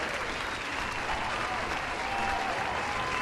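Crowd and players applauding the referees after the final game of the Poltava Cup finals between Sarholm Crowns and Cuive Crusaders, a steady dense wash of clapping that holds evenly throughout.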